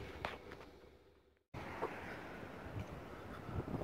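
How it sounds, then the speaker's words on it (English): Strong gusts of Storm Ciara buffet a campervan, a rough broadband roar that drops out briefly and then returns in full force, close and loud with no one speaking. "that wind is bad now, and I'm in a sheltered bit"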